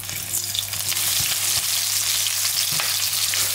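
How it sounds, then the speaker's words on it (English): Onions sizzle as they fry in oil in a pan while a salt-and-pepper spice bag is cooked, making a steady, close, continuous crackle with no talking. "In go your onions now."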